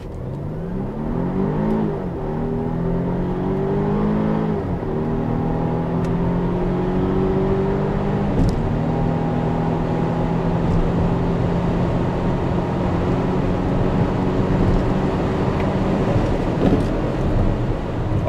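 A Volvo XC60 T8 hybrid launches hard from brake torque, its engine rising through several gear shifts in a long, loud acceleration heard from inside the cabin, with steady road and wind roar building behind it.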